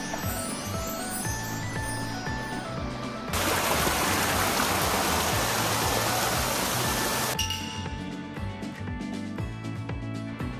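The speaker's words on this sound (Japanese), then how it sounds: "何やら水の音がしますね。" Rushing water from a mountain stream in a remote Mie Prefecture gorge swells into a loud, broad roar for several seconds, then eases back toward the quieter ambience around it.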